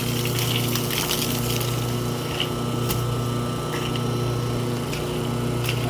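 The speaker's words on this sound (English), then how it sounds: "I'm going to pull out the concentrate and permeate lines in order to drain that tank" Water draining from the wash tank of a MemPro 350H reverse osmosis system through disconnected concentrate and permeate lines, a steady, loud rushing flow over a constant pump hum.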